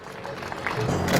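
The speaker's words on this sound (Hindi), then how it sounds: "जोरदार तालियों के साथ स्वागत करें" Audience applause welcomes a guest onto the stage at a college inauguration ceremony, a brief, dense patter of clapping that swells toward the end, mixed with crowd noise and some voices.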